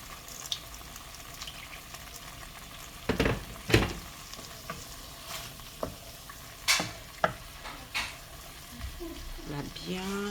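A spoon stirs lamb chops in mustard sauce simmering in a pan, with scraping strokes and thick bubbling under a gentle sizzle, and a few louder knocks of the utensil against the pan.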